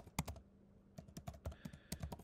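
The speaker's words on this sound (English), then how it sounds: "I'm going to type in my Instagram handle" Typing on a computer keyboard, rapid irregular clicks and taps in close succession, near and fairly quiet.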